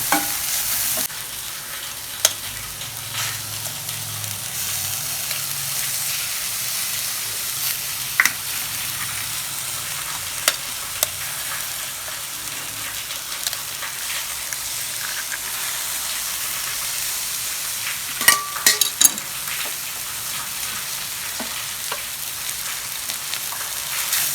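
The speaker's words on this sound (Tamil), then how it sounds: "இப்போ முட்டையை உடச்சி ஊற்றிடுவோம்." Egg and bitter gourd fry in a pan with a steady, continuous sizzle and a few sharp utensil clicks, without any voices.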